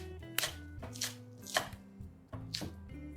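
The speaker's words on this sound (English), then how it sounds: "I'm going to chop this scallion." A knife chops scallions on a cutting board, a series of sharp, close, irregular taps with short pauses between them, no voices.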